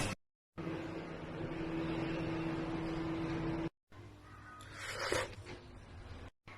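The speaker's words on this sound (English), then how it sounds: "Microwave 200 watts," A microwave oven set to 200 watts hums steadily while cooking a plastic-wrapped Japanese steamed egg pudding, a constant low drone broken by short gaps and a few clicks and rustles.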